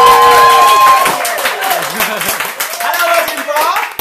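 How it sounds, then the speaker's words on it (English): Audience claps and cheers at a poetry night at the Edinburgh Fringe as a poet is welcomed to the stage, the crowd noise sitting under a host's voice and music-like tones that fade toward the end. "I want your biggest, rapturous round of applause for Johnny!"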